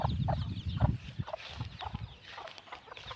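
Hens cluck in short, repeated bursts close by, with a few higher peeps from chicks mixed in, all in a hot grassy farmyard with no voices.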